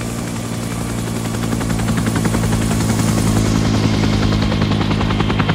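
A medevac helicopter in Arma 3 flies close and loud, its rotor chopping in a steady rapid pulse over a deep engine drone that swells slightly as it goes on.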